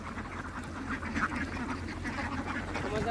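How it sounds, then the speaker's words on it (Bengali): A crowd of ducks at a wetland duck farm quack continuously, their overlapping calls forming a dense, busy chorus at moderate distance. "হাঁস আর হাঁস।"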